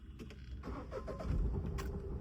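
A car engine cranks and catches during a hill-start driving lesson, a brief churning turnover that settles into a low steady rumble up close.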